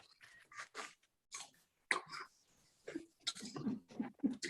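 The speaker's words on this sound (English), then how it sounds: "We've got our apple, and we're going to go 10, 9, 8, 7, 6, 5, 4, 3, 2, 1, and crunch." Crisp crunches of people biting into and chewing apples, a series of short, close, irregular bites and chews with brief gaps between them and no talking.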